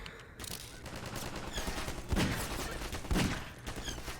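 Sustained rapid gunfire in a Half-Life 2 mod shooter, a continuous rattling volley with two heavier impacts standing out, steady and close, with no talking.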